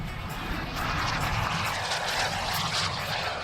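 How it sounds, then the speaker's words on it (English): A turbine-powered model jet makes a fast pass at an outdoor model air show, a loud, continuous roaring rush that holds steady throughout with no voices. "A very nice fast pass there by 16 of Allen"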